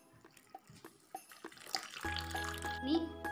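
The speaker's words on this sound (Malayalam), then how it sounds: "അതിലേക്ക് ഒരു കപ്പ് വെള്ളം ഒഴിച്ച് കൊടുക്കാം" A cup of water is poured into a bowl of sugar and salt mixture for a no-bake Christmas cake, a short splashing gush after a few light kitchen taps, close and fairly quiet.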